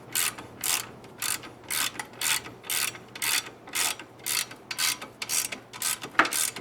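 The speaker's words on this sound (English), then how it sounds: "Once that bolt's in and tight, we can tighten this bolt up." Rhythmic ratchet clicks from tightening a bolt while installing a Subaru EJ25 boxer engine in a 2006 Forester, about a dozen evenly spaced strokes, close and clear with no talking over them.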